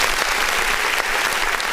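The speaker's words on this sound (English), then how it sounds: "I'm gonna give you a half clap" Steady applause from a small group at an independent music review show, dense continuous clapping at moderate loudness throughout, with no talk over it.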